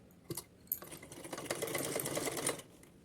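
A sewing machine stitches a folded one-inch hem on a small Kanha ji outfit, starting with a few short bursts before settling into a steady, close mechanical run.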